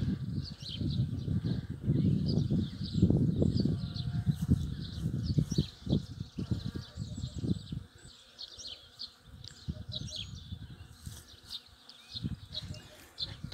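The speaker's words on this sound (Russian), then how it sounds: "И пчелки работают," Honeybees buzzing steadily around spring blossoms outdoors, a continuous hum with occasional passes close by, mixed with goldfinches, pigeons and starlings chirping and calling in the background.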